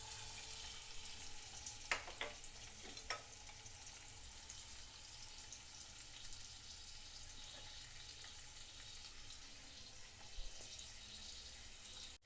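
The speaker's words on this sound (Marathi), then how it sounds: "आता मी त्यात कांदा घालते आहे" Onion frying in oil in a kadai for chicken biryani gives a faint, steady sizzle and hiss, broken by a few soft stirring clicks early on, with no talk.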